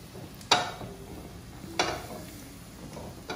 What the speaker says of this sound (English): you're browning the garlic at the same time, you are infusing the oil with the garlic flavor